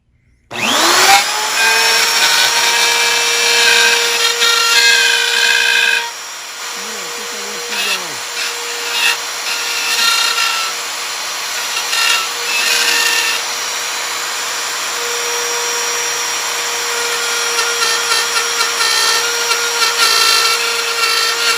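A rotary tool grinds on a part of a Gibson Maestro with a loud, sustained, high-pitched whine that stalls and dips partway through, then resumes in uneven bursts close up.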